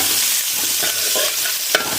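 Curry leaves dropped into hot oil in a pan for a home-style Kerala curry, giving a steady dense sizzle with some stirring scrapes and a brief sharp crackle near the end, no voices.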